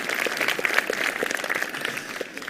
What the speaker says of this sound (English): Give these guys a round of applause for being great volunteers.